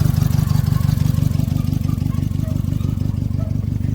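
A 2001 Honda Civic LX idles while still warming up, thermostat not yet open; a close, loud, steady low engine thrum with an even rapid pulsing rhythm runs throughout, with no voices.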